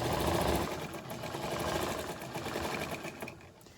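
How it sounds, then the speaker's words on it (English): A sewing machine runs continuously while sewing one straight line along a face mask, a loud steady whirring hum with rapid needle chatter throughout. "So I'm just gonna sew this one straight line for now."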